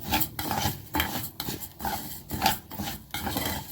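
Potatoes and chicken are stirred with ghee in a pan, producing close, rhythmic scraping strokes of a utensil against the metal about every half second, with faint sizzling between them and no talk.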